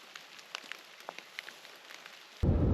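Rain keeps falling during a South Carolina mountain turkey hunt, scattered drops ticking and pattering faintly on nearby surfaces before a sudden louder rush at the end.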